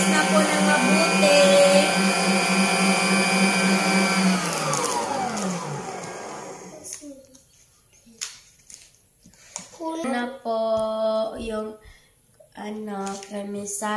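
Electric mixer whipping cream for a no-bake chocolate mousse cake whirs loudly and steadily, then winds down and stops after about five seconds, followed by talking.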